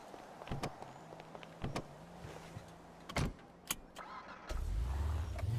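A car in Clear RP, a GTA-style roleplay game, starts up with a brief engine burst, and then there are clicks and thuds like doors or windows before a steady low engine rumble sets in for the last second.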